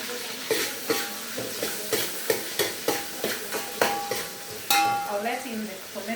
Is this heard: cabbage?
yes